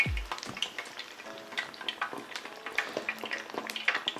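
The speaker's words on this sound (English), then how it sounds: "Did you hear all that popping? That's all the water that is coming out of the fish." Beer-battered cod dropped into hot oil, frying with a continuous crackling sizzle and scattered sharp pops, heard close and at moderate level.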